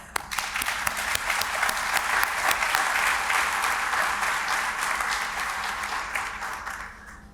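An audience at a county community meeting claps in sustained, steady applause that fades slightly toward the end.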